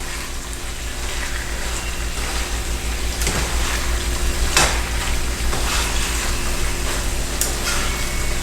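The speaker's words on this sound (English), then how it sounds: "So we're just gonna stir this, and we're gonna close the pot after we stir." Ackee and saltfish being stirred in a sizzling pot, a continuous close frying hiss with occasional scraping clinks of the spoon against the pot.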